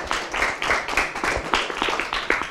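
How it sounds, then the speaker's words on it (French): Children applaud at a Day of the African Child event, a rhythmic group clapping in regular bursts, close and fairly loud. "Je vous demanderai d'applaudir encore très très fort pour lui."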